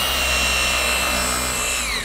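A RUPES polisher spreads compound across a test spot, giving off a loud, steady motor whine with a constant rotary hum, close and continuous with no pauses.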